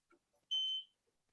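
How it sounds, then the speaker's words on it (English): Smoke alarm test button pressed, giving a single loud, piercing electronic beep of about a third of a second, preceded by faint button clicks and followed by quiet. "UL recommends testing your alarms once a month and pushing the test button like this."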